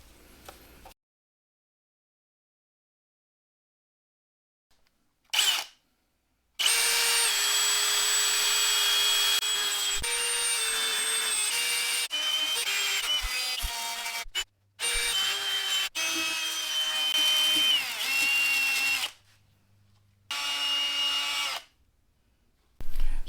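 A power sander works 800 grit sandpaper over car headlights in several sustained whirring passes broken by short pauses, the pitch shifting as pressure changes.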